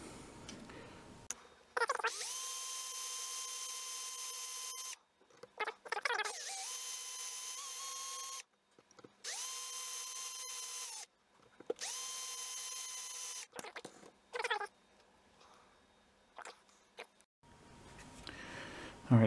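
Small power drill bores out the rivets on a Corgi Jaguar Mk X die-cast model car, several whining bursts of a few seconds each, separated by quiet pauses and handling clicks.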